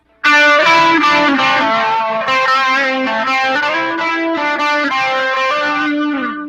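Electric guitar ringing out sustained chords and melodic lines, washed in delay and reverb with light overdrive grit, loud and continuous without any talking.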